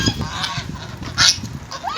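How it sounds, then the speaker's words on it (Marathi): Ducks at a village fair calling near by, a few short nasal honking quacks scattered over two seconds, one louder call standing out against light background noise. "ही बघा बदकं किती छान आहेत"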